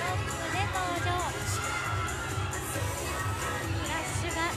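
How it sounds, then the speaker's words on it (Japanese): Audience at the SHIBUYA109 35th anniversary party in Shibuya, loud continuous cheering and excited shouting from a packed crowd, with a rhythmic thumping beat underneath and high squeals rising over the din. "お客さんたちの歓声がすごいです"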